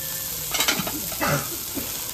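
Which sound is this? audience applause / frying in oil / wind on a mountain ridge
frying in oil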